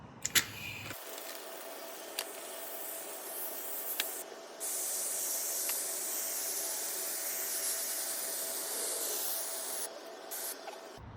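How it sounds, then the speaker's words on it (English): An aerosol shaving cream can hisses steadily for several seconds after a few soft clicks, then cuts off abruptly. "You're gonna spray the whole can."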